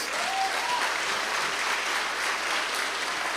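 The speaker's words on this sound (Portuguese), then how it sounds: "Será que você pode dar um aplauso ao Senhor Jesus?" A church congregation applauds together, steady sustained clapping from many hands that fills the room evenly, with a few brief whistles or cheers near the start.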